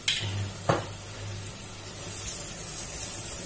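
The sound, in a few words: onions sweating in a pan with a little salt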